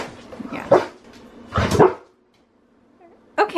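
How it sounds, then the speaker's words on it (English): A dog named Harlow gives two loud, deep barks close by, then falls quiet before a third bark begins at the very end. "it's a very deep bark"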